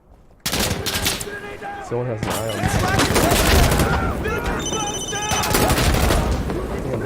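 Rapid gunfire and bursts from the shooter game Insurgency Sandstorm, loud and dense through most of the clip, with automatic volleys layered over single shots while a player talks over the din.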